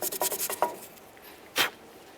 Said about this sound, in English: I always just take a little bit of sandpaper, or you can use a bore brush